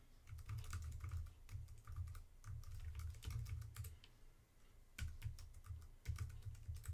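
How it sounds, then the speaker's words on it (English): Steady, close-up typing on a computer keyboard while entering an email address in craft-cutting software: rapid bursts of clicky keystrokes with brief pauses between runs, no voice. "I'm going to type in my email address."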